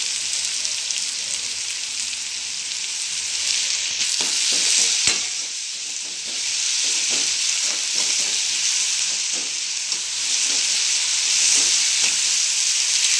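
Onions and vegetables frying in a pan in a home kitchen, a steady close sizzle broken by repeated scraping stirs and clatters of a spoon against the pan, with no talk.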